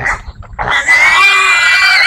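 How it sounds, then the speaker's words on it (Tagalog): A piglet squeals shrilly and continuously at close range while being carried, a loud high-pitched cry that rises after a brief choppy start. "maingay talaga yung baboy pag"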